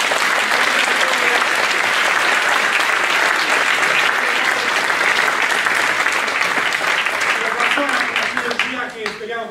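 Theatre audience applauding loudly and continuously, a dense wash of many hands clapping at once that fades slightly toward the end, with a voice speaking faintly beneath it.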